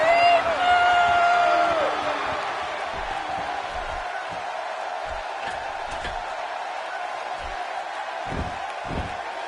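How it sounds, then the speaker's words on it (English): Arena crowd noise in the WWE 2K16 wrestling video game during a SmackDown show, a loud cheer that fades into a steady crowd murmur under a commentator's voice, with occasional thuds. "Another electric crowd on hand here for SmackDown"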